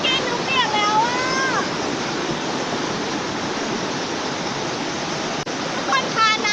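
Khao Chamao waterfall roars in a loud, steady, close rush of falling water, with a voice briefly audible at the start and again near the end.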